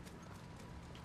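Horse hooves clip-clopping in the Battlefield 1 video game, a steady close galloping patter that runs through the short moment amid game noise.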